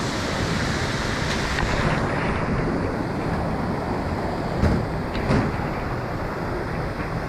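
Constant broadband roar of rushing water, loud and unbroken, from a nearby waterfall on the Kareri Lake trek near Dharamsala, with no voices.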